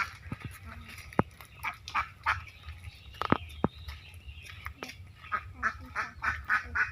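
Ducks in a quiet, green village setting with no wind quack repeatedly in short, uneven bursts from nearby, with no voices over them.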